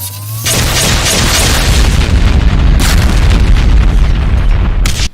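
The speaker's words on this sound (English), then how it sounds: "It also fires a volley of BFG 11K shots." A volley of BFG 11K shots exploding in a Doom mod, loud heavy booming blasts rolling together into a sustained roar with brief sharp cracks, ending abruptly.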